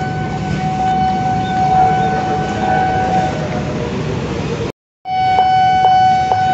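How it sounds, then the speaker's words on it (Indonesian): A Pangrango service locomotive shunting at a railway yard on the Bogor–Sukabumi line, with a loud steady diesel rumble and sustained tonal horn blasts, a brief cut, then the engine drone resumes with short horn or whistle notes. "kita akan melihat proses langsiran daripada lokomotif dinas kereta api Pangrango"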